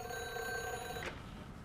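A telephone rings in a WWII air war game, a steady bright trilling bell that goes on for about a second, then cuts off, leaving quiet room tone.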